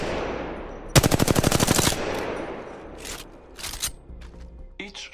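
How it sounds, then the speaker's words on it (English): Automatic weapon fire in the video game Apex Legends: a loud, rapid burst of about a dozen close shots lasting roughly a second, followed by quieter clicks and mechanical handling sounds. "Each shot is important as well as the weapon you hold"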